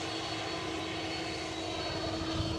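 An EasyJet airliner roars steadily overhead at Edinburgh, a broad continuous engine rumble with a faint high whine, loud and unbroken through the brief moment.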